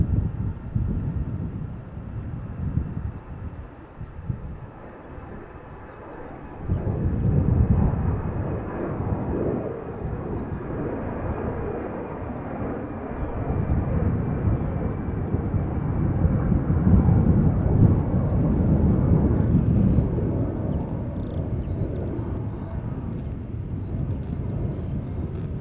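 An airliner spools up and takes off on Schiphol's Polderbaan runway. The jet roar is loud and steady and swells as the engines build and the aircraft departs, with wind rumbling across the microphone.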